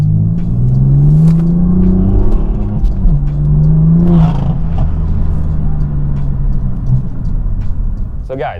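BMW F82 M4 Competition coupe with the factory OEM muffler pulling hard from inside the cabin: the engine drone climbs in pitch through a gear, dips at a shift and rises again. A loud close rumble with some talking over it.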